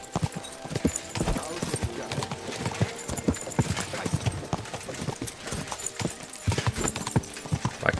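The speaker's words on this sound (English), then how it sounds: "I just jump on the horse and explore the terrain." Horse hooves clip-clopping steadily while riding across open terrain in the video game Kingdom Come: Deliverance 2, a close, continuous rhythmic stream of hoofbeats with light tack and ambient noise.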